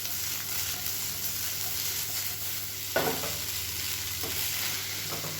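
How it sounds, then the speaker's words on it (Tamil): Egg fried rice is tossed and stirred in a pan over a high flame, giving a constant dense sizzle with a couple of sharper scrape-and-toss hits partway through, close and unvoiced. "நல்லா ஹை ஃப்ளேமில் சுருள சுருள கிளறி வச்சுக்கணும்"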